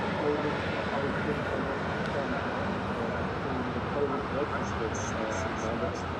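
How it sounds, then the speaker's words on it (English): Eurowings airliner jet engines idling on the ground, a constant broad roar heard from a distance with people talking over it. "You can see the engines are on there on that Eurowings because the water on the ground is rippling away."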